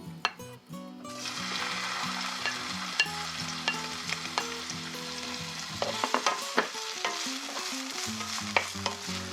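Wood ear mushroom, carrot and pineapple stir-fried in a pan with a little cooking oil, giving a steady loud sizzle with scraping stirs and clinks of a utensil against the pan, no voices.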